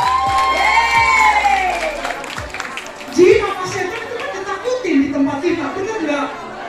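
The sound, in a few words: audience applauding and cheering at stand-up comedy show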